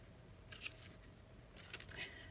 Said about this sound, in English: Fussy cut all those elements out.